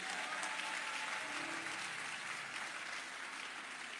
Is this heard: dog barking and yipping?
no